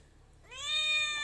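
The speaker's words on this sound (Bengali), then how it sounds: "আমাদের বাড়ির পুষিটা চলে এসছে ম্যাও ম্যাও করতে করতে।" A pet house cat gives a single close meow that swells from near silence into a rising, drawn-out call.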